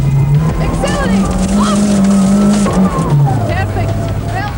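A car on a loose surface, from a 1991 Top Gear rally segment, revs hard as it accelerates, its engine note rising and shifting loudly and near, with faint scrabbling from the tyres beneath.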